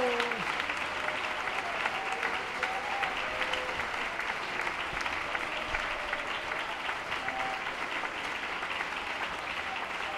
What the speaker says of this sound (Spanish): Dale ese aplauso a este Dios maravilloso.